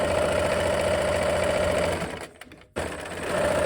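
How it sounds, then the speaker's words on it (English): Sewing machine running steadily while stitching a four-patch quilt seam, a fast even mechanical whir that stops briefly near the end before resuming, loud and close with no talk. "let's go ahead and sew"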